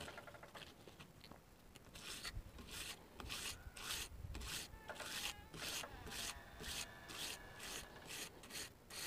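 A kitchen knife is stroked repeatedly across a whetstone, each rasping scrape steady and evenly spaced, close and fairly quiet with no talk.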